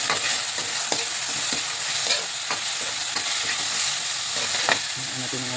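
A breakfast mixture with sugar stirred in a hot pan, a loud continuous hiss of frying with repeated scraping strokes and small knocks from the spoon, no speech.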